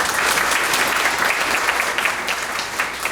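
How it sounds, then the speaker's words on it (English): Steady applause from a pageant audience at a Ms. Senior Davie County event, honoring the judges and tabulator; dense, continuous clapping fills the room at a constant level without any talk. "Let's give one more round of applause to our judges and our tabulator."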